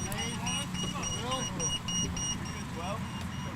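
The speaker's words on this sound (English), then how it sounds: "Starting to have a little franticness sound to the beep." A beeping ball in a beep baseball game sounds a steady series of evenly spaced high electronic beeps, faint under crowd noise and commentators talking.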